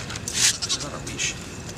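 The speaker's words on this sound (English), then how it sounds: "This is the most unruly goat of all time." A goat bleats a few short, nasal cries in quick succession, fairly close, over faint background noise.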